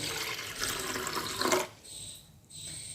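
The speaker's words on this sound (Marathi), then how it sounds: "मूग स्वच्छ तीनदा धुवून घेतले" Running water splashes into a sink as mung lentils are rinsed under the tap, briefly easing off before the flow resumes.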